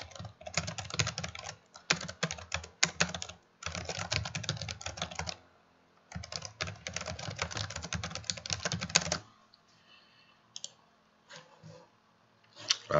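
Python code is typed on a computer keyboard in quick, close clicking bursts with short pauses, then a few scattered keystrokes near the end.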